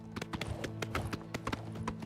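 A horse's hooves clip-clopping in the video game Oblivion Remastered: a steady, brisk rhythm of hoof strikes on the ground, fairly quiet and close, running continuously over light background game ambience.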